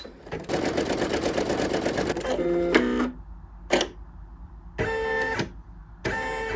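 An embroidery machine stitches in a rapid, loud mechanical rattle, then runs in short bursts separated by pauses, with clicks and whirs as it stops and restarts.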